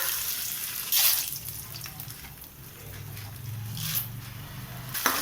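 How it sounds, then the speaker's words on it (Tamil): Urad dal being lightly sautéed in a pan, giving a steady soft sizzle with occasional scraping and stirring sounds, close and moderately loud, with no talk. "இப்போ லைட்டாக வதக்கிக்கலாம்"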